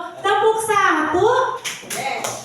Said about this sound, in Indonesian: Tepuk tangan satu kali